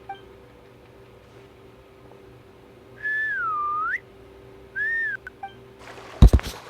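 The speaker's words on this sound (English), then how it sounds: "Whistling?" A two-part melodic whistle rises and falls in the Genshin Impact video game, with a louder, longer first call and a shorter second one over a low steady background hum, followed by a few sharp clicks.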